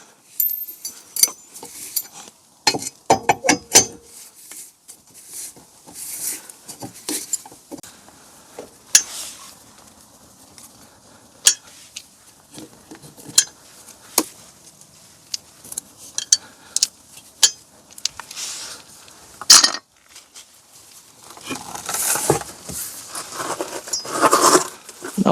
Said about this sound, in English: And then all the wheel bolts can be removed.